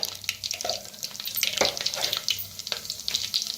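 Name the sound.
mustard seeds and cumin frying in hot oil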